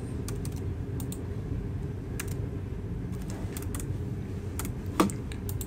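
Product details being typed on a computer keyboard: quick, light key clicks in irregular bursts through a steady low background hum, with one sharper tap near the end.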